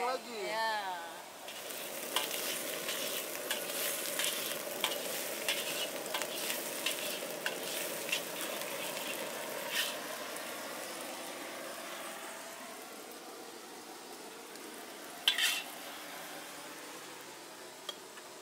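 Rolled food fries in hot oil with a faint, continuous sizzle, broken by occasional light clinks and stirring scrapes in a busy kitchen.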